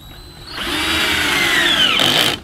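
A power drill whirs steadily as it drives a screw into the frame of a Tappercussion Mark VII e-tap instrument, a loud, close run of about two seconds that rises in pitch before stopping abruptly.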